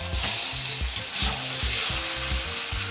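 Mustard paste and mustard oil sizzle and fry in a pan with Malabar spinach and fish head, a steady close crackle with soft stirring scrapes underneath.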